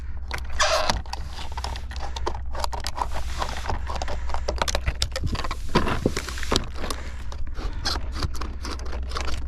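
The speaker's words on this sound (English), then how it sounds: "I'm gonna snip that crack off of there." Snips cut a cracked piece of vinyl siding in a series of sharp, crisp crunching clips and scrapes, close up and irregular, over a steady low hum.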